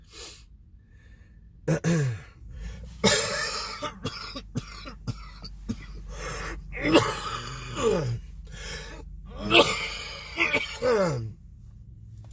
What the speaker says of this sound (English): I've coughed so much.